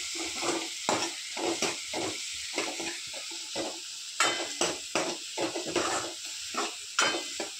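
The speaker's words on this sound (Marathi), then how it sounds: "आता हे छान फ्राय होऊ द्यायचं व्यवस्थित." Tomatoes fry in a tempering pan for dal tadka, a soft sizzle interrupted by rhythmic scraping and tapping of a spoon as the mixture is stirred repeatedly, close and fairly quiet.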